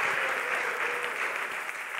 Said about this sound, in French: acclame le Seigneur, acclame le Seigneur.